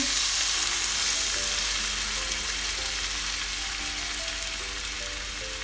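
Water added to a hot cooking pan sizzles loudly and fades slowly over several seconds, with faint stirring and no voices.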